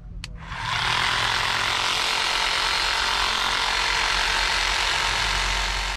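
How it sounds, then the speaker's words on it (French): A metal bar being cut to length for a solar panel mount on a Kangoo van, a loud, steady, harsh cutting noise that starts after a brief click and runs continuously. "pour l'instant là je suis en train de les couper à la dimension"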